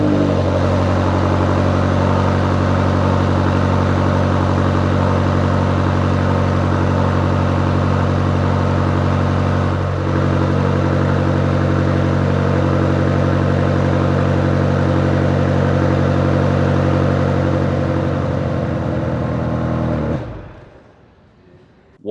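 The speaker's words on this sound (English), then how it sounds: "we're about to fire her up pretty soon here for a cold start" A 2026 BMW XM Label's engine fires on a cold start and settles into a loud, steady, rumbling idle close by, holding evenly for about twenty seconds before cutting off abruptly.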